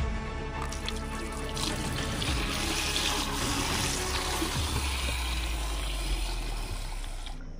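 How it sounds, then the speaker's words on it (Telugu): Milk poured into a container in a kitchen, a continuous loud splashing liquid stream lasting several seconds, heard alone without talk. "గైస్ ముందుగా అయితే పాలని అయితే ఒక దాంట్లో వేసుకుందాము"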